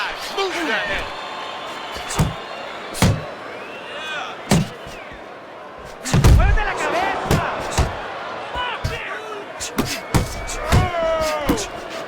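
Punches thud and slap in a Fight Night Champions bout, a series of sharp impacts spread irregularly with a heavier flurry midway, under an excited commentator's play-by-play and crowd noise.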